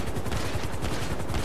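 Rapid automatic gunfire in GTA V rattles on without pause, dense, loud and close, with no talk over it.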